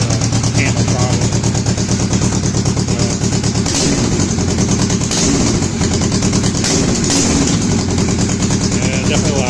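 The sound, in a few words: Kawasaki Vulcan S engine with AliExpress aftermarket exhaust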